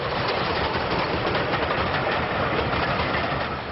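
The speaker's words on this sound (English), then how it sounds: "The Swindon-built Standard 4, restored to its BR appearance, heads another assorted rake of coaches" A Swindon-built Standard 4 steam locomotive in BR livery rumbles past hauling a rake of assorted coaches, a steady, loud rolling and rattling roar with no voices.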